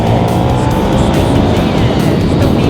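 A loud, continuous KTM Super Duke 1390 R Evo motorcycle engine roar at wide open throttle in rain mode, steady and close with wind rush, sustained throughout with no talking.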